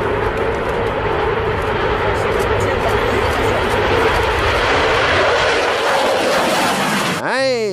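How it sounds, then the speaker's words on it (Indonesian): Airplane engine roaring loud and steady, a broad continuous drone throughout that cuts off near the end into a brief sweeping whoosh. "Wadidaw, ternyata ini pesawat"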